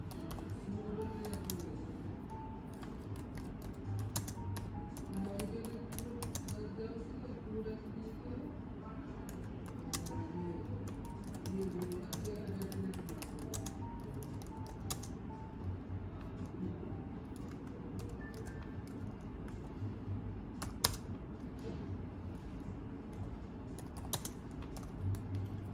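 Notes keyed in on the keypad of a Radiodetection 1205CXB cable fault locator produce a long, continuous run of small clicking key presses, close and fairly quiet, over a low steady room hum.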